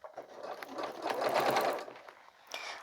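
A sewing machine stitches a zipper into a purse pocket, running in a close, steady mechanical burst that quickens and then stops, with a brief clack at the end.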